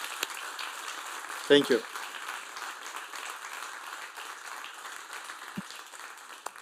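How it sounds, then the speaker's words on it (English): Conference audience applause at the Europakonference 2024 on European elections, a short burst of clapping with a word of thanks spoken over it, then a low murmur of room noise. "let's give Leo a big hand of applause"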